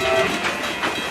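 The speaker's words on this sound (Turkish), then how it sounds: "Bakın mavi bir tren geliyor." A blue train pulls into a station in a children's cartoon, its rumble and faint clatter steady and fairly close, with no talking over it.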